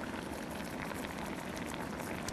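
Crispy microwaved fried pork cutlet crackles and rustles like dry leaves, a faint, dense and continuous crackle heard close up with no voices.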